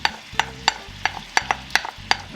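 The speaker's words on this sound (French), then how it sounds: "nous allons faire revenir nos petits lardons que nous allons accompagner des oignons" Bacon lardons and onions frying in oil and butter for a leek-topped farmhouse tart, heard as a series of sharp, evenly spaced scraping stir strokes over a low background sizzle, close and fairly loud with no talk.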